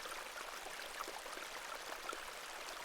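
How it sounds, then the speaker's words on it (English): A small babbling beck in a pixel-art point-and-click game, a soft, continuous trickle and splash of running water heard faintly and alone, with no voices. "This is a lovely little beck"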